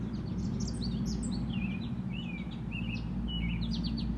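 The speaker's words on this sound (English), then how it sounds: "That's the only time they make that" A bird chirps after a rainstorm, giving a quick string of high, thin calls over a steady low rumble in the background. It sounds fairly faint and outdoors, and no one speaks.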